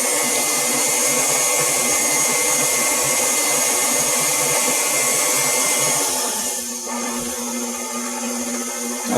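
An electric mixer whirring steadily as an egg is beaten into blondie batter, a loud continuous motor drone with a slight shift in pitch near the end.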